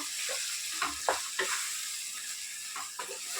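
Chili masala sizzling on a low flame as it is stirred in a pan, a steady hiss broken by several scraping clacks of the spoon, close and alone without talk.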